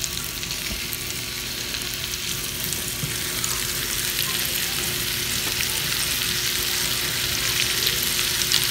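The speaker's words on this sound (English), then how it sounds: "You can hear it sizzling." Steady, dense sizzling of beef stew meat browning in a hot Power Quick Pot electric pressure cooker, a continuous crackle holding even throughout with no talking.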